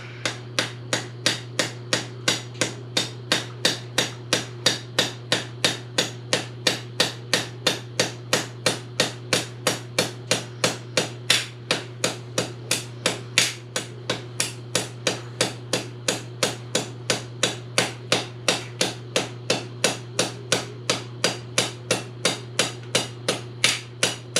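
Steady, rapid hammer taps on an aluminum rod, used to dislodge an unfired load from a Traditions Pursuit muzzleloader, evenly spaced and ringing slightly, continuing without pause over a low constant hum.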